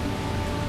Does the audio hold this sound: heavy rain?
yes